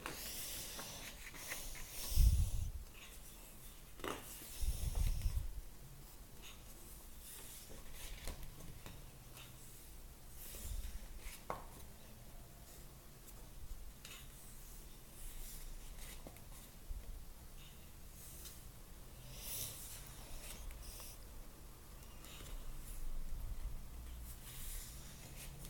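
Colored pencils scratch softly across the pages of a pocket adult coloring book of sweet treats, in faint, intermittent strokes broken by a few louder bumps, with no talking.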